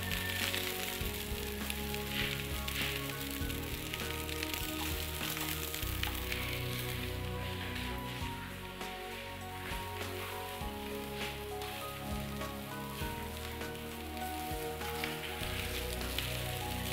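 Peas sizzling in hot oil while Chinese fried rice is cooked, a steady, dense crackling hiss that carries on unbroken and fairly loud with no talking.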